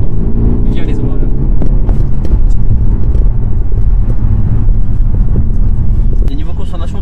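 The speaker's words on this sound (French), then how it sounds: "le son du moteur est un peu truqué parce qu'en fait il remonte dans les haut-parleurs" Enhanced engine sound of a Peugeot 308 GTi Coupe Franche with a 1.6-litre engine, piped through the cabin speakers: a steady, loud low drone that continues throughout, with people talking over it.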